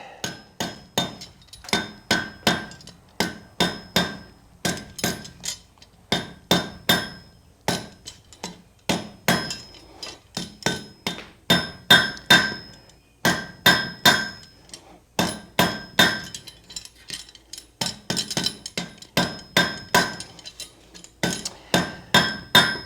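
Freehand hammer forging of the ball end on a blacksmith's meat hook: a steady run of sharp, ringing hammer blows on hot steel over an anvil, struck in quick bursts with brief pauses, close and loud, no talk.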